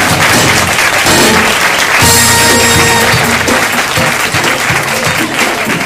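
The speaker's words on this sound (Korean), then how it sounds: "여러분 뜨거운 박수 부탁드립니다." Sustained crowd applause at a student council inauguration ceremony, dense and loud clapping filling the room without pause, with faint voices mixed in beneath.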